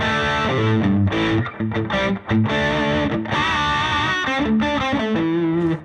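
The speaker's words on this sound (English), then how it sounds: "Now I can just do the lead boost on that lead channel as well." Distorted electric guitar lead tone from an amp's lead channel with the lead boost engaged, a loud, continuous saturated phrase of sustained notes and chords with no talking.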